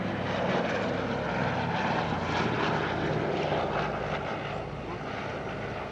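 A C-47 Dakota, the military version of the DC-3, drones past at an airshow, its piston propeller engines giving a steady, loud rumbling roar throughout with no voices.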